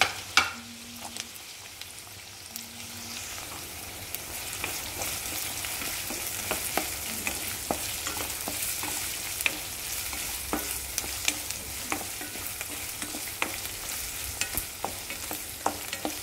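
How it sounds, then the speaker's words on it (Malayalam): Onions sauté gently in a pan for a macaroni dish, a soft continuous sizzle broken by repeated clinks and scrapes of a spatula stirring, close but fairly quiet with no talk. "സവാള അധികം നമ്മൾ കറിക്കൊക്കെ മൂപ്പിക്കണ പോലെ അധികം മൂപ്പിക്കൊന്നും വേണ്ട, ജസ്റ്റ് ഒന്ന് ചൂടായാൽ മതി."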